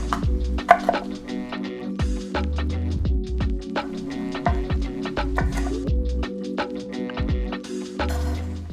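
Onions chopped with a knife on a board while making keto dips, the blade striking in quick, fairly steady taps over a constant humming tone in the background.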